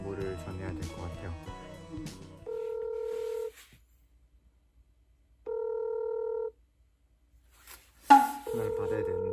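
A phone ringback tone sounds twice in long beeps separated by silence, with music and a voice before and after.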